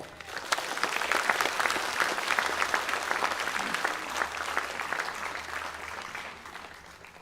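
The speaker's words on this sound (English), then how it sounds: "please give him another round of applause" An audience gives a dense, sustained round of applause at the opening of the 50th Hiri Moale Festival, a steady loud clatter of many hands that gradually tapers off toward the end.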